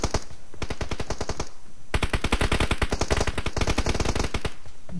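Rapid automatic gunfire from a video game, loud bursts of closely spaced shots with a short pause before a longer sustained volley.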